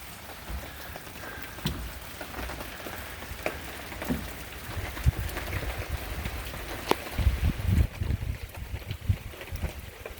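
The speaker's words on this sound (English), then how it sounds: "cool, wet wind blowing in" Cold, wet wind gusts outside an off-grid cabin as a front moves through, a steady rushing, buffeting noise that surges louder toward the end, with scattered patters like rain on surfaces and no talking.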